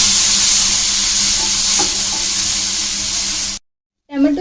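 Peeled medium tomatoes roasting with browned onion in a pan for homemade pizza sauce, a loud steady sizzle that stops abruptly, followed by a brief voice at the end.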